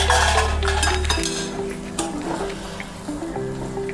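Metal lid and pan clink and scrape in a home kitchen as cooked upma is checked, a few sharp clatters over a low steady hum, close by and moderately loud.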